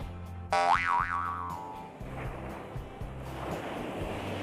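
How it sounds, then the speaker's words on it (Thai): Waves washing onto the beach at Hua Hin, a steady roar of surf with wind noise on the microphone, under a springy boing-like sound effect near the start. "ก็มาถึงชายหาด หัวหินกันแล้วนะครับ"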